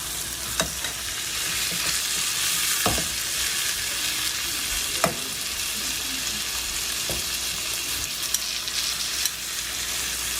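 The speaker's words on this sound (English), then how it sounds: "steaks back down so it can continue to cook. Turn over again." Steaks sear steadily in a hot pan, a continuous loud sizzle and crackle with occasional sharp pops and scrapes as the meat is laid down and turned.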